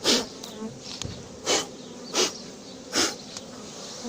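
A swarm of honey bees being blown off cardboard during a swarm capture in Soignolles-en-Brie, heard as a steady close insect buzz with several loud whooshing bursts of breath, about four in a row.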